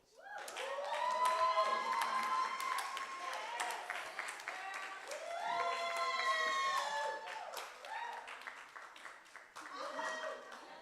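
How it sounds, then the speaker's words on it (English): An audience applauds a guest at a fireside chat during an alumni mixer, steady clapping rising and falling in waves over about ten seconds, with voices mixed in. "let's all clap hands for Chido Kaseke"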